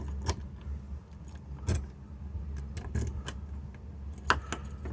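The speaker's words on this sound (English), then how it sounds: "let's give the keys a try." Keys jangle a few times in short metallic bursts while being tried in a keyless-entry RV door lock, fairly quiet over a steady low hum, with no talking.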